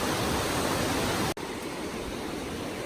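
A waterfall on the trail near Franklin ghost town rushes with a steady, loud broadband roar, briefly cut by a short gap before continuing.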